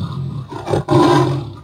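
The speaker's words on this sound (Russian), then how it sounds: "Давай звук тигра." A tiger roar sound effect gives two deep, rumbling growls, a short one and then a longer sustained roar, loud and close, with a fresh burst starting at the end.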